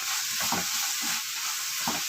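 Mutton frying while being stirred with fry masala, a dense continuous sizzle with a few soft spatula scrapes, near and without voices.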